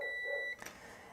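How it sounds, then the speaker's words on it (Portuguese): A digital multimeter on its continuity setting gives a steady high electronic beep as its probes touch an inductor coil, cutting off after about half a second, followed by a faint clatter. "eu posso vir aqui na escala de BIP e encostar as pontas, que vai apitar"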